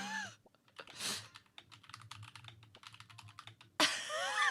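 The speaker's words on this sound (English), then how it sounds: "I'm typing it now." Typing on a computer keyboard, a quick run of light, close clicks and taps during a chat Q&A session, with a couple of brief sounds around the keystrokes.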